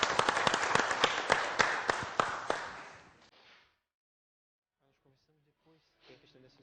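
A small audience claps for a gospel singer on an afternoon show, a burst of distinct hand claps for about three seconds that fades out, followed by quiet and faint voices.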